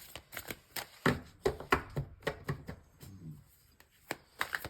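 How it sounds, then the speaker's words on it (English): Tarot cards being shuffled by hand, a run of crisp riffling snaps and soft slaps in uneven bursts, close and alone with no talk. "now as I'm shuffling"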